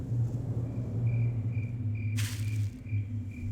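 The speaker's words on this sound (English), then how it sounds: "it's like you hear crickets, but why would there be crickets" Crickets in the Gmod Poolrooms game chirp in a regular, evenly spaced pulse over a low steady hum, with a brief burst of hiss partway through.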